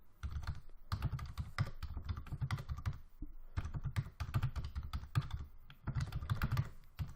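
Rapid, irregular clatter of typing on a computer keyboard while writing text, steady bursts of close keystrokes with brief pauses, no talking.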